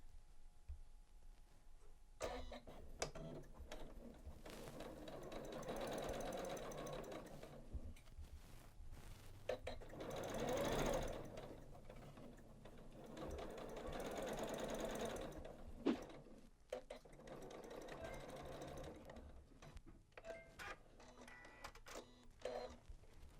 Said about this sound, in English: I'm just going to top stitch down the center of the braid with a thread color that's pretty much going to get hidden